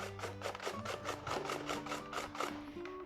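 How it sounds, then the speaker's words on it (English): Zucchini rubbed against a hand grater in a kitchen, giving a steady run of about ten rhythmic rasping strokes, close and fairly quiet, with a faint low hum underneath and no talking. "I'm going to grate a cup's worth of zucchini."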